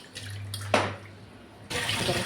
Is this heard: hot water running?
yes